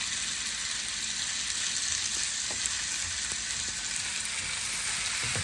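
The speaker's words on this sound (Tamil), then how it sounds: "நல்லா கிண்டி கிண்டி விட்டு நல்லா பாதாம் காட்டும் பாருங்க இப்போ நல்ல பொன்னிறமாக வதங்கிட்டு" Onions frying in a pan for Sri Lankan onion sugar sambal, giving a steady, dense sizzle throughout with occasional soft scrapes of stirring, close and continuous with no talking.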